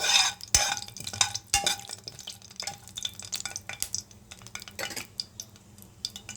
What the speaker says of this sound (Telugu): దాల్చిన చెక్క, లవంగాలు వేసుకొని, ఇలాచీ 1 వేసుకోండి. వేసుకొని ఫ్రై చేసుకోవాలి దీన్ని